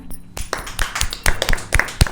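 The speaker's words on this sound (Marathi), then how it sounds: "भगतसिंग टीमचे टाळ्या वाजून अभिनंदन करूया" Audience applause congratulating the winning quiz team, a few scattered claps building into a short burst of hand claps over about two seconds, moderately close with no talking.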